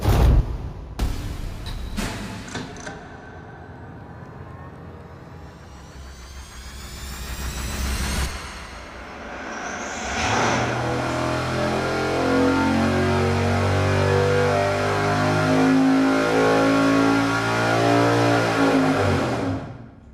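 Car engine running on E85 ethanol fuel after a carburetor swap, revving on an engine dyno: sharp blips early, then a sustained loud roaring pull that climbs steadily to the end, with no talking.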